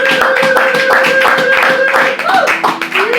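Congregation clapping steadily in rhythm during praise at a French-speaking church gathering, a dense run of hand claps under a sustained sung or chanted tone, with a brief dip near the end.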